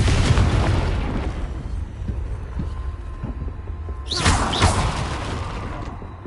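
A Confringo fire spell explodes in Hogwarts Legacy: a sharp blast bursts out a little past the midpoint over a constant low rumble, and the clip has no speech.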